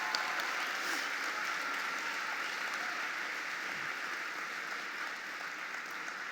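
Graduation crowd at a high school ceremony applauds the seniors in a steady, even wash of clapping, fairly faint and distant, with no break throughout.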